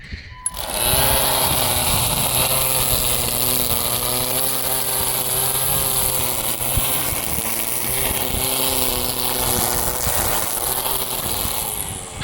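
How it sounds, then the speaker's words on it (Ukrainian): An AL-KO cordless electric string trimmer cuts grass with a steady, loud whirring motor hum and fluctuating buzz as the line strikes the grass, running continuously for the whole stretch with no speech. "будемо косити електричним тримером"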